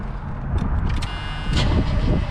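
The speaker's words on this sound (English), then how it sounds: "we're just gonna drive it and then see if she starts back up." Junkyard G-Body car starting and running close by, a brief engine crank that catches into a rough, uneven idle with a couple of sharper mechanical bursts, no voices.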